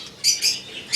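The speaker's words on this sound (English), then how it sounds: "here we have various birds such as finches, budgies and lovebirds" Small aviary birds such as finches, budgies and lovebirds in an animal care enclosure give a couple of bright, sharp squawks and chirps, close and fairly loud, with no talking.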